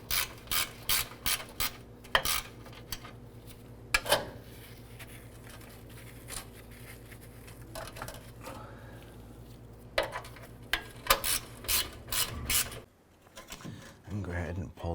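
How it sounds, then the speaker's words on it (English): Ratchet loosening a bolt beneath a 2004-2009 Dodge Durango while removing the transfer case crossmember, heard as bursts of rapid clicking separated by pauses, with a steady hum underneath. "I'm going to go ahead and remove our bolt here."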